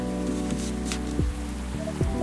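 Rain in the video game Coffee Talk falls steadily, a soft even patter beneath a calm, sustained musical background, with no voices.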